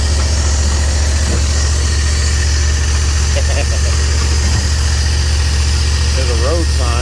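A Predator 670 engine fitted to a Hustler 980 mower idles steadily, a loud, continuous low rumble with constant vibration and no change in pace throughout.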